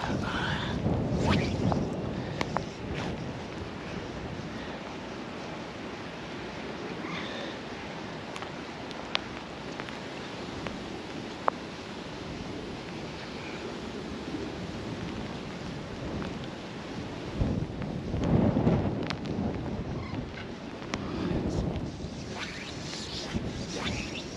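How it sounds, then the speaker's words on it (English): Strong gusty wind buffets the microphone at a trout fishing lake in bad weather, a steady roar with louder surges for about twenty-four seconds, with possible rain mixed in. "The weather has really deteriorated. The wind's getting worse."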